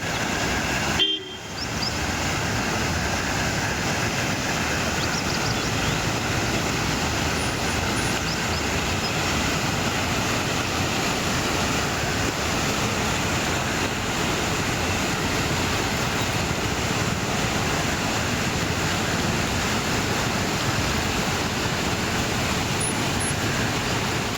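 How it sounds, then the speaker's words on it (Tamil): A loud, steady rush of lake floodwater roars through a railway underpass without a break from start to finish, a dense continuous wash of noise. "ஏரி நிரம்பி வெள்ளநீர் ஆர்ப்பரித்து ஓடுவதால் ரயில்வே சுரங்கப்பாதை மூடப்பட்டுள்ளது"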